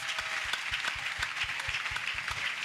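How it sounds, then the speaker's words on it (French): A church congregation claps during a crusade service, a rhythmic beat of hand claps blending into a busy spread of applause, with faint voices in the background. "Clap for Jesus."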